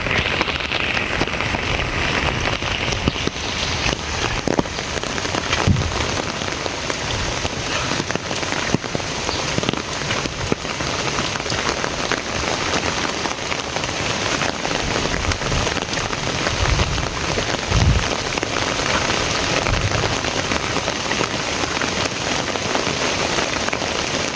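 Steady rain falling on a foggy village, a dense continuous patter with occasional louder drips, no voices.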